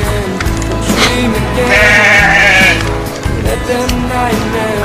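Sheep bleat on a European children's farm, a drawn-out wavering call standing out over a dense, busy mix of farmyard noise and low rumble.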